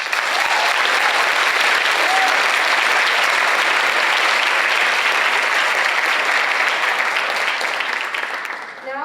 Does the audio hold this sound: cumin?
no